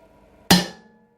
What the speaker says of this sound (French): Et avec le marteau, je vais donner un petit coup.